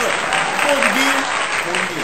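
Steady, dense applause from a studio audience on a college football talk show, continuous and fairly loud for a couple of seconds with a faint voice beneath.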